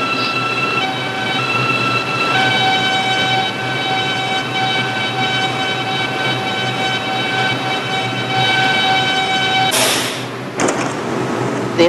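A New York City subway 6 local train runs along the line with a steady, loud rumble and a whining motor tone, then a sharp burst of door or brake noise near the end.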